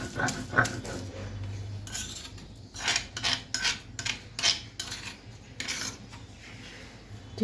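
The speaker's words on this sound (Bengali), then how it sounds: "এভাবে আমি সবগুলো চিংড়ি মাছ এভাবে বেটে নেব" Tiny shrimp are worked into a smooth paste on a grinding stone, with soft irregular rasping and rubbing strokes close by and brief quiet gaps, and no talking.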